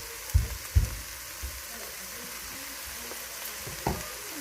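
Hamburger meat fries in a pan with Worcestershire sauce as it is stirred: a soft, constant sizzle with a few low thumps and scrapes of the spoon near the start and again toward the end.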